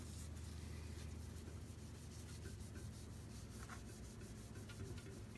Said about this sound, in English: going to move to the light buffing with the steel wool.